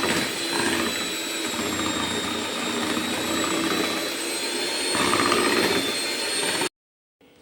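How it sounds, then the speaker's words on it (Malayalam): An electric beater whirs steadily and fairly loudly through jackfruit cake batter for nearly seven seconds, then cuts off abruptly. "ഇതൊന്ന് നമുക്ക് ചെറുതായി ബീറ്റ് ചെയ്യാം"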